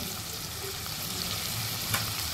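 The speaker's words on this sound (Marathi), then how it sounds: "आता असेच आपण व्यवस्थित परतून घेऊया" Field beans, pigeon peas and carrots sauté in a hot pan as a dense, even, steady hiss of frying, close and continuous, with a single faint scrape near the end.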